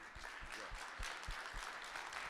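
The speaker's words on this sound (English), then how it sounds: "how about a round of applause for Tim and him being the MC?" An awards ceremony audience applauds the MC, giving light, scattered clapping that is fairly faint and steady throughout.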